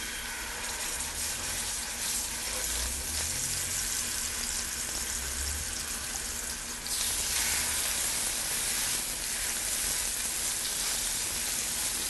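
Olive oil sizzles steadily in a heated skillet as a constant bright hiss, close and unbroken, with a slight jump in intensity partway through and no talking.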